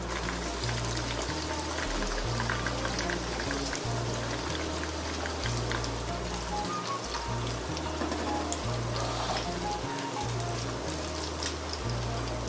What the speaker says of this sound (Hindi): हमने ये मछली का एक पीस लिया और हमने इसको मीडियम फ्लेम पे फ्राई करना है